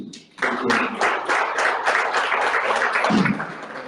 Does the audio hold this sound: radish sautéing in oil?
no